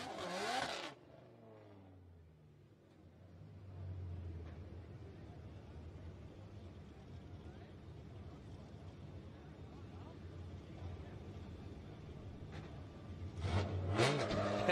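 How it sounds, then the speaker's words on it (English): Oracle Lighting Dodge Viper drift car on Achilles radial tires running at a Formula Drift qualifying event in Orlando, a steady, somewhat distant engine drone that swells toward the end, with a brief loud burst near the start and end. "Dean in the Oracle Lighting Dodge Viper on Achilles radial tires"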